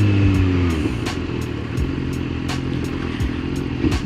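A BMW motorcycle passes close by a rider on a 1000cc bike, its engine note rising and falling over steady road and wind noise with rattling clatter.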